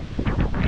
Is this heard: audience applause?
no